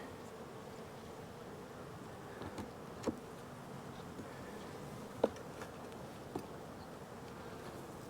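Honey bees crowd across the frames of an opened hive and give off a steady, soft, close buzz, with a few faint clicks and knocks over it. No one speaks.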